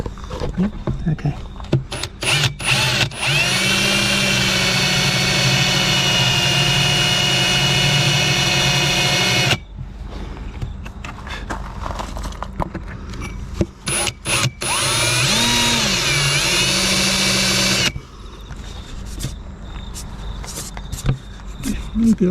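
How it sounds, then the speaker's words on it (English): A power drill bores a pilot hole through a door for a composting toilet vent, loud whining bursts of several seconds each with short pauses and quick starts and stops, close by. "I've just got to drill a pilot hole first. I don't trust this drill."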